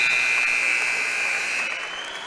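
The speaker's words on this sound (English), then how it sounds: "Rashida Atkinson, she's going to take the 2 and can't make it quite at the buzzer." A basketball arena buzzer sounds at halftime of a 2022 regular-season women's game between the Fredericton Freeze and the Windsor Edge, a loud sustained electronic tone that holds steady for about two seconds over crowd noise.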